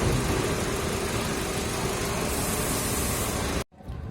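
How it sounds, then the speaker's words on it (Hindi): A Hyundai petrol engine idling rough with heavy vibration, a steady dense mid-range rumble close up that cuts off abruptly near the end before a faint noise returns. "ये इंजन भी बहुत वाइब्रेशन कर रहा है"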